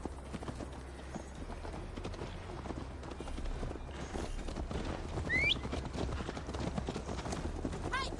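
Horse hooves clip-clopping in a steady rhythm as a rider travels in the video game Assassin's Creed Valhalla, loud and continuous under ambient game sound, with a brief whinny-like tone near the end.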